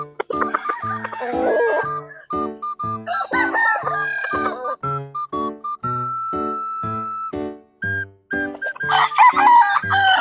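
A straight-combed gamefarm rooster in San Ildefonso, Bulacan crows loudly nearby several times over a steady run of low clucks and chicken chatter, with a final raspy crow at the end.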